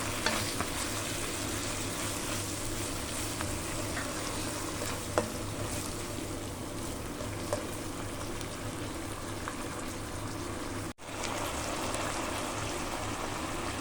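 Beef and onions stir-frying in bulgogi sauce, a steady dense sizzle and bubbling hiss close up, with light stirring scrapes and a brief break near the end.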